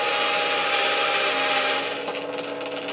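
A die cutting machine cutting all the way through plates and a craft die, a steady loud grinding rub that shifts to a slightly thinner, crackling tone near the end, with no talk.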